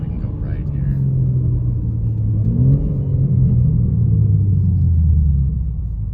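A 2023 BMW M4 G82 with a JB4 tune pulls hard under acceleration, a deep rumbling engine note rising steadily in pitch through the gear, loud and close from inside the cabin.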